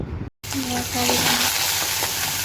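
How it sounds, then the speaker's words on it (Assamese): Mustard seeds and curry leaves sizzling in hot oil, a loud dense hiss that breaks off for a moment and then resumes, with a voice briefly humming over it. "তেলত দিছোঁ সৰিয়হ আৰু নৰসিংহ পাত দিছোঁ"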